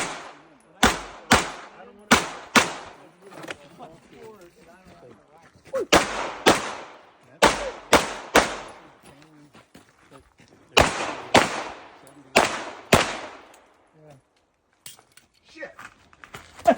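Sharp, loud pistol shots at an IDPA shooting competition ring out in quick clusters of two and three, separated by short pauses, with distant voices talking between strings of fire.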